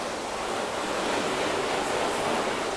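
Water from a hose sprays steadily over coated car body panels during a rinse, a dense, even hiss that fills the whole moment without a break.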